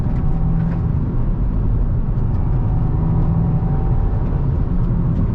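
A 2022 Subaru WRX engine revs hard toward the rev limiter, heard from inside the car as a steady, loud, low droning roar with constant road rumble and no talk.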